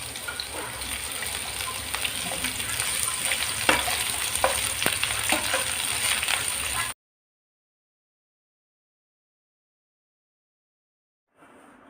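Chopped onions sizzle steadily in hot mustard oil for about seven seconds, with occasional stirring clicks, then the sound cuts to silence, ending with a faint trace.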